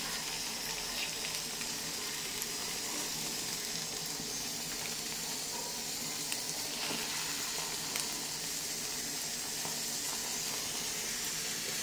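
Beaten egg sizzling steadily in a frying pan while being stirred for a Bengali egg fry, a dense continuous hiss with faint scraping, moderately loud and with no talking.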